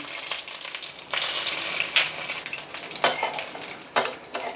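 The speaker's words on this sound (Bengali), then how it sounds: "এবার আমি শুকনো লঙ্কাটা এর মধ্যে দিয়ে দেবো রাঁধুনি ফোড়ন দিয়ে দেবো" Dried red chillies and radhuni seeds hit hot oil for a Bengali chal kumro shukto, giving a close, bright sizzle that swells and crackles, broken by a few sharp clinks of a metal utensil against the pan.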